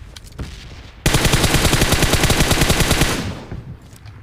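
Automatic gunfire from the battle-royale game BGMI / PUBG Mobile: a few scattered shots, then a loud, sustained rapid-fire burst of evenly spaced rounds lasting about two and a half seconds before tapering off.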